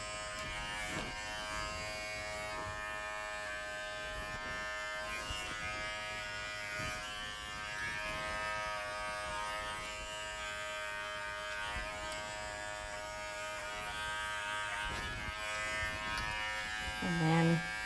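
Wahl Figura lithium-ion cordless clipper running steadily on a standard poodle's underside, a constant close electric buzz with many harmonics throughout, slight shifts in pitch as the blade moves through the coat, and quiet talk underneath.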